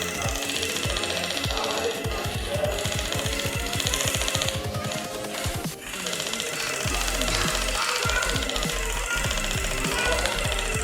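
A LumiSpa facial cleansing device buzzes steadily in a rapid, rattling vibration, pulsing in quick rhythmic bursts close to the microphone, with a brief break near the middle.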